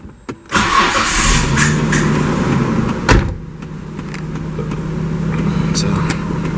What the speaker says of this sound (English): So I gotta go move the car so we have more room to work with.